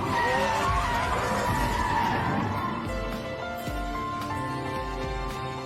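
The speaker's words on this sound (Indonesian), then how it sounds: "Jin Wong injak abis gas. Mobil langsung maju ke depan seperti roket." A car accelerates hard and then brakes, its tires skidding with a loud, sustained screech. The roar and squeal dominate the first half, then fade into a lower rumble as the car slows.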